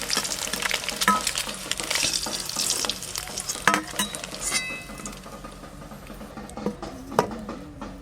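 Duck eggs frying in a pan, with a close, continuous sizzle and crackle of hot oil and occasional scraping stirs, no voices.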